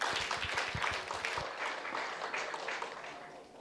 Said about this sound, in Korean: 여러분 박수로 청해 듣겠습니다